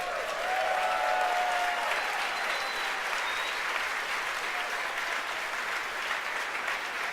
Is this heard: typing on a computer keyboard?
no